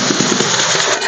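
Compressed air blasting dust off car bodywork during body repair: a loud, steady broadband hiss with slight crackly fluctuations, close up and continuous with no talk.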